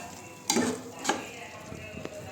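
Masala for a chicken curry bubbles and sizzles in a cooking pot, with a steady crackle broken by a couple of sharper spattering bursts close by.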